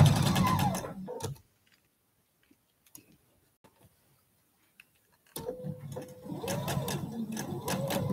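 A sewing machine runs slowly along a quilt block seam, its needle ticking rhythmically up close, then goes nearly silent for several seconds apart from a few small clicks before resuming its steady stitching.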